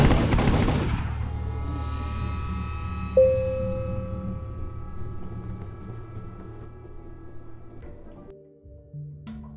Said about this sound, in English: you hear gunshots?